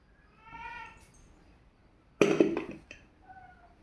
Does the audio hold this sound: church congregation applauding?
no